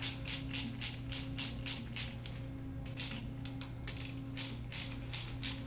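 A ratchet wrench clicks in quick repeated bursts while tightening the jacking bolts on a KMT PRO2 hard seal end cap, close and steady over a constant machine hum.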